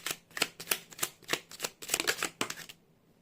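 A tarot card is drawn from the deck with a quick run of soft papery riffles and flicks, about a dozen close, light taps in rapid rhythm, then stopping.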